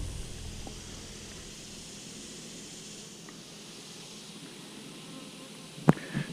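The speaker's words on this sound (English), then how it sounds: "I'll get these bees transferred" Bees buzzing around a bee trap at a basecamp, a steady faint insect hum running throughout, with a single sharp knock near the end.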